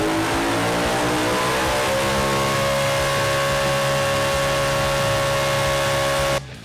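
A BMW naturally aspirated V8 road car engine revs high toward 8,400 RPM, a loud sustained harmonic wail climbing gradually in pitch, then cutting off abruptly near the end.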